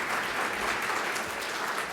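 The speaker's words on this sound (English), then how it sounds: "that does deserve an applause." Dense, steady applause from a dinner audience at a political caucus event, continuous and fairly close throughout the short stretch.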